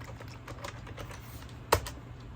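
Soft, quick keystrokes tap on a computer keyboard close by, a light irregular patter with one sharper key press near the end, over a faint low hum.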